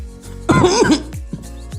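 A single burst of coughing up close, a rough throaty rasp lasting about half a second, followed by a couple of softer short sounds.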